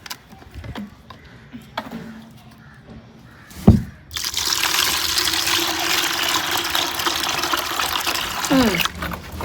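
Water pours steadily into a bowl of curd and salt to soak brinjals, a broad rushing stream starting after a sharp knock and running several seconds, close and fairly loud, with quiet shuffling before it.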